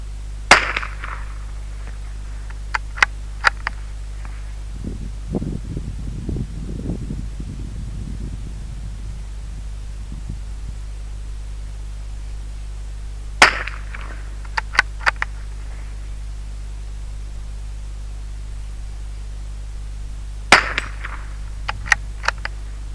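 Rifle gunshots at an outdoor shooting range, several sharp isolated cracks spaced apart with long quiet gaps between them, with no talking.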